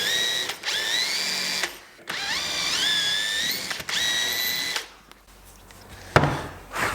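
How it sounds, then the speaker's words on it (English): Pilot drill boring into the edge of a panel board in a woodworking shop, three rising whining bursts of a few seconds each, close and fairly loud, followed by quieter handling clatter and a sharp knock near the end. "I'll always use a pilot drill."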